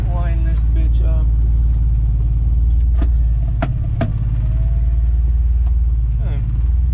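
A Honda Del Sol with a B16 engine under rebuild runs with a loud, close, rumbling idle that swells slightly, with a few sharp clicks and knocks on top.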